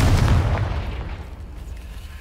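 Confringo fire spell explosion in the Hogwarts Legacy video game: a single heavy boom at the start that decays into a rumbling, hissing tail fading over a couple of seconds.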